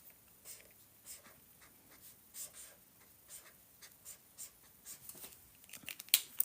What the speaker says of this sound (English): we're going to go and write health up here.